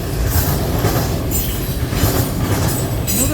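CN freight train passing close by, with a distributed power locomotive mid-train: loud continuous rumble of wheels and rolling cars with rhythmic clicking over rail joints, no voices.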